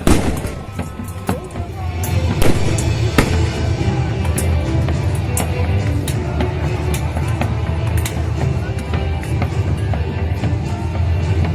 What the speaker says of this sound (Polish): To dźwięk wybuchów.